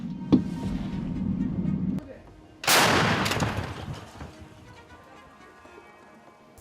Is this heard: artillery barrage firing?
yes